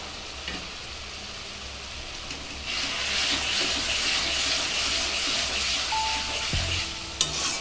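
Garlic and ginger sauté in a hot pan with turmeric, hissing and sizzling steadily with occasional stirring scrapes, quiet at first and then louder and fuller partway through.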